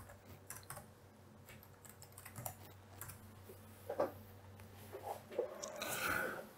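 Close, quiet typing on a computer keyboard while code is written, an uneven run of soft key taps and clacks with a few louder strokes, no talking.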